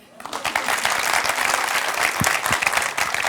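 Applause from a television studio audience swells in quickly and holds dense and loud, with a few louder individual claps and faint voices underneath.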